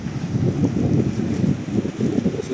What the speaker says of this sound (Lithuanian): Varom, kur mažesnis vėjas, nes čia tai neįmanoma.